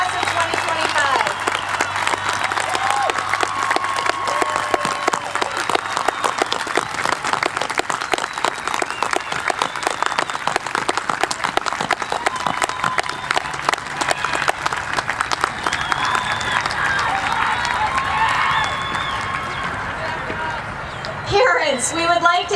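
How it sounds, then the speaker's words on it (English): Sustained audience applause fills a middle school achievement ceremony for the graduating class, dense clapping and crowd noise holding steady for about twenty seconds before thinning out as a voice begins at the end. "a big round of applause and congratulations to the Glen Crest class of 2021 and Lombard class of 2025"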